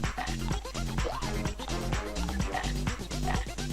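A dog in the video game Dog's Life yips and barks in short bursts over a loud, rhythmic backing music loop that plays throughout.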